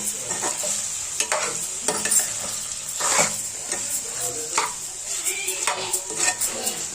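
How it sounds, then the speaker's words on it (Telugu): A pan of chicken fry sprinkled with coriander is stirred with a spoon: steady sizzling underneath, with repeated scraping strokes and light clinks of metal against the pan, close and alone. "కొత్తిమీర చల్లేసుకొని ఒకసారి అయితే కలుపుకుందాము"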